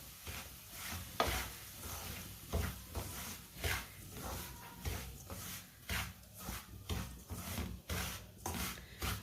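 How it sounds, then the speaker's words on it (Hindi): A spoon scrapes and stirs semolina roasting in hot ghee in a pan, rhythmic rubbing strokes repeating about once a second with a faint sizzle beneath, close and steady without talk. "इसे चम्मच चलाते हुए भूनना है"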